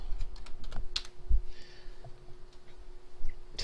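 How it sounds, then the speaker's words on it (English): Fingers tap out text on a computer keyboard in quick, uneven bursts of light clicks, close and fairly quiet, with no one talking. "go nuts typing."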